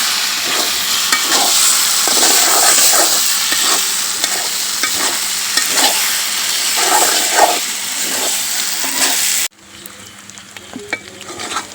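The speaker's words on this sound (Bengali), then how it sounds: "তো এই তেলেই আমার ভাজা হয়ে যাবে সুন্দর করে" Beef tripe fries in a little oil with a steady, loud sizzle, broken by rhythmic scraping and stirring strokes, before the sound drops abruptly to a quieter bubbling near the end.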